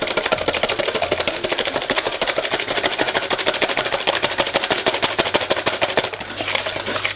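Egg yolks whisked with sugar until pale for a Bavarian cream, a fast, steady rattling whisk against the bowl, loud and close, continuing without pause.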